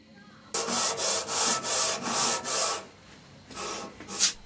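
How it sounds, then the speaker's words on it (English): Sanding the high spots on a surface plate by hand, a rhythmic series of about eight loud, close abrasive strokes, a short pause, then two or three more. "I sand the high areas."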